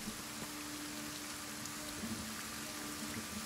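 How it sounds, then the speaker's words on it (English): Rain falling in the video game Kenshi, a faint steady hiss of rainfall across the whole stretch with no voices. "Is it really still raining all the way over here?"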